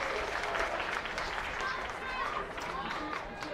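Crowd at a night baseball game between Roseburg Dr. Stewart's and Eugene Challengers applauding and cheering steadily at a distance, a broad wash of clapping and voices with talk over it.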